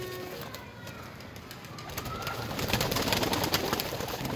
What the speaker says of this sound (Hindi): बहुत ही आला परिंदे ये सारे जोड़ों वाले हैं जी